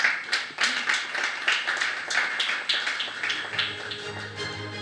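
A conference audience claps in a dense, lively round of applause that stays loud and steady before slowly thinning out.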